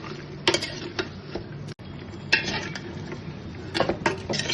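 Tomatoes stirred into mutton curry in a pot after the spices have been fried in oil: a spoon scraping and clinking against the pot in irregular bursts, close and fairly loud, with a faint sizzle underneath.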